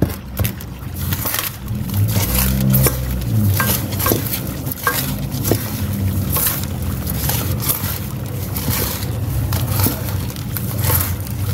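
Bonsai soil substrate for a Portulacaria afra being mixed by hand, a continuous gritty rustle and scrape of loose granular particles with repeated sharp clicks, close and fairly loud.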